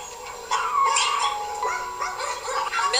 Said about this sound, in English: This is the life of a puppy mill dog.